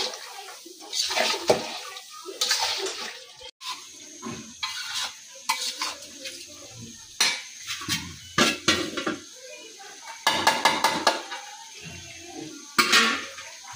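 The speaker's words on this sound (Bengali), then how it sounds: "মাংসটা আমি এইভাবে একটু কষে তারপরে আমি একটা পাইলার ভিতরে ডাইলা দেবো" Meat being stirred and fried in a pan during home cooking, with repeated clanking of a utensil against the pan in uneven bursts and a sizzling hiss between them.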